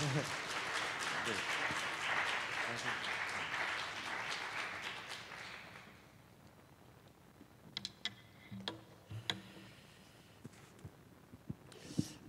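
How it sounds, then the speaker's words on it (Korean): At a church school seminar for parents and teachers, a room claps to welcome the professor, with about six seconds of full applause that then fades out, leaving a quiet room with a few scattered knocks and shuffles. "저희는 박수로 저희 교수님 먼저 환영해드리면 참 좋을 것 같습니다"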